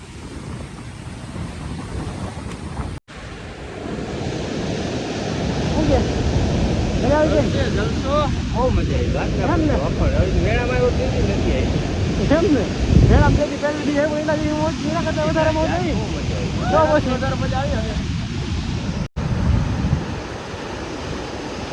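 Sea waves roll in along the shore at Porbandar, a steady wash of surf under gusty wind buffeting the microphone, while people talk nearby throughout.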